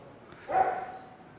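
One short dog bark sounds during a Spanish church sermon, a brief moderately loud yelp that fades quickly, with no speech over it.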